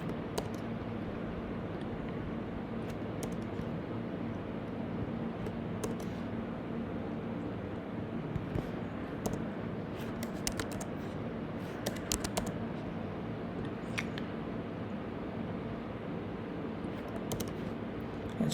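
Book names are typed on a computer keyboard, with light, irregular key clicks scattered over a steady background hum and no talking.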